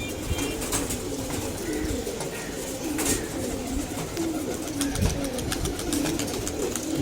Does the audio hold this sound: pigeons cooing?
yes